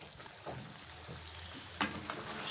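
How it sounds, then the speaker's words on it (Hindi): Chicken frying in a pan with turmeric and whole garam masala, a steady soft sizzle under occasional scraping stirs, near and fairly quiet. "चिकन को बहुत अच्छी तरीके से मिक्स करेंगे और इसको अच्छे तरीके से हम भून लेंगे"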